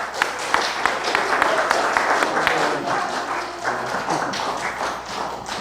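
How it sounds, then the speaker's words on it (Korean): Audience applause welcoming a lecturer onto the stage at a talk, a steady wash of many hands clapping with a few sharper taps standing out, sustained and fairly loud throughout. "우레와 같은 박수 부탁드리면서"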